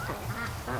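Ducks quack in a yard, a few overlapping honking calls from a small flock close by, with steady outdoor background noise.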